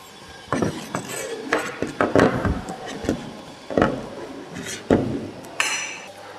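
A chipping hammer of the kind used for arc welding in a welding shop, handled in a fitter's workshop, gives a series of sharp metallic clinks and knocks at uneven intervals, fairly loud and close, with no talk.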